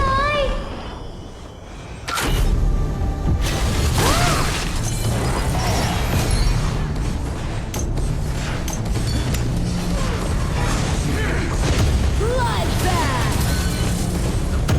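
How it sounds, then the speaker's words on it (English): A tower is destroyed in the mobile battle game ROV, with crashing booms and mechanical impacts amid busy game effects, and an announcer voice calls out over the action. "Your team has destroyed a tower!"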